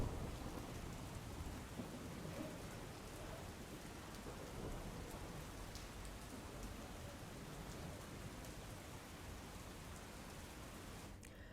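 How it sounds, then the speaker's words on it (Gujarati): Heavy rain pours in Navsari, a dense, continuous roar of falling water that stays even and fairly quiet throughout, with no voices. "નવસારીમાં મેઘરાજા મન મૂકીને વરસ્યા છે"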